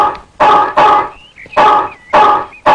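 A dog barks loudly and close up in a quick series of about five sharp barks, with brief high whimpering whines in the gaps between them.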